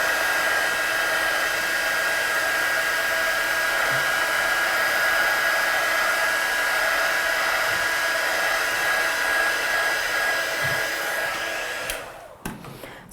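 A heat tool blows hot air to dry freshly stamped ink on a card, a steady loud whooshing drone heard up close and alone that cuts off abruptly near the end with a few handling knocks.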